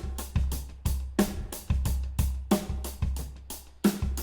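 A simple looping drum beat with a layered room-reverb sample gives steady kick and snare hits in an even rhythm, loud and full with a roomy tail, and no voices over it.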